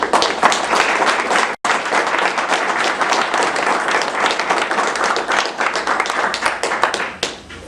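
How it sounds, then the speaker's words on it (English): A crowd at an evening community meeting gives volunteers a sustained round of clapping, thick and even, with one brief cut near the start and a tapering finish. "I just want to give them another round of applause"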